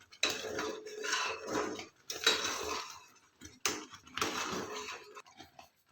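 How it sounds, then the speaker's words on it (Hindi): A spoon scrapes and clinks steadily through thick sago and potato batter in a pan, in three long bursts of stirring with short pauses between them. No one speaks. "इसे हम लगातार चलाते ही रहेंगे क्योंकि घोल हमारा काफ़ी गाढ़ा है तो तले में चिपक सकता है।"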